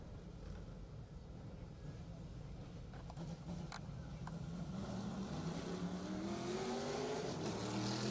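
A race car at a raceway during qualifying heats roars steadily, its engine note rising as it accelerates and draws nearer, loud and continuous with a faint background voice.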